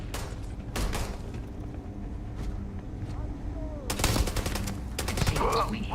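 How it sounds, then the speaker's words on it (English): Gunfire in the Starfield video game: rattling bursts of shots and heavy blasts, loud and close, with louder volleys near the end and voices talking among them. "Who's doing all the shooting?"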